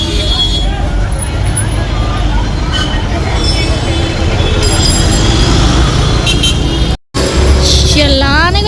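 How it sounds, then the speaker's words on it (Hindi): Dense road traffic in Tilak Nagar, a steady broadband rumble of engines and tyres with scattered horn toots, a clear honk near the end, and a brief dropout just before it. "Oh my God, Tilak Nagar में हमेशा इतना ट्रैफिक क्यों रहता है?"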